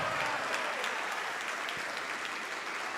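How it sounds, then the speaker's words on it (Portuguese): A church congregation applauds in a steady, dense wash of clapping that holds at an even level throughout, fairly faint and unbroken. "Vamos aplaudir mais ainda."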